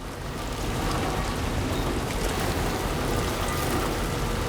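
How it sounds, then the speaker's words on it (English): Steady rain in the video game Death Stranding 2: On the Beach hisses continuously, a dense even wash of falling drops with no pauses or voices. "And we've got some rain."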